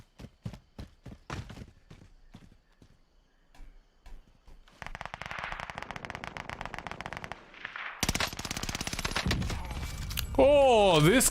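Gunfire in the video game Caldera: spaced single shots at first, then a sustained rapid automatic burst, followed by louder, denser firing and a closing swoop of effects.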